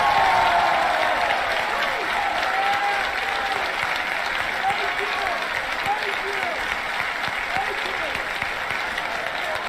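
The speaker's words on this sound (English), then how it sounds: "Standing ovation for based lady." A crowd at a political event gives a standing ovation, dense continuous clapping that fills the whole stretch at steady loudness, with cheering voices and whoops rising through the applause.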